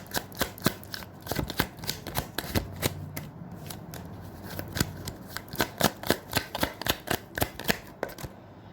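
Tarot cards are shuffled close up in a long run of crisp, rhythmic riffles and slaps, quiet and alone, with only a faint murmur behind.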